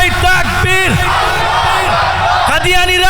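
A large crowd at a Bangladeshi Islamic religious gathering roars back in unison to a Nara-e-Takbir call. The loud, sustained chorus of massed voices swells and surges across the whole moment.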